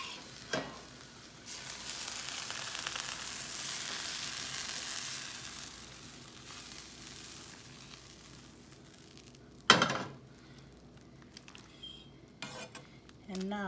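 Cooked, fried okra added to a boiling yogurt curry for dahi bhindi, a sustained sizzling, bubbling hiss with faint stirring, then a sharp utensil clatter against the pot before the bubbling settles.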